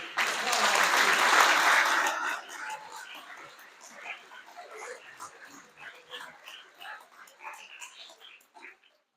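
A burst of audience applause at a student speech event, loud for about two seconds, then fading into sparse scattered claps and murmuring.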